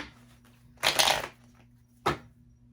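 Tarot cards are shuffled in two brief, crisp riffling bursts, a longer one followed by a shorter one, close by in an otherwise quiet room.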